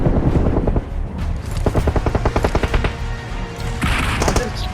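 Bizon submachine gun fire in a video game, rapid sustained bursts of loud close shots in quick rhythmic succession, with brief pauses between strings and other game sounds mixed in.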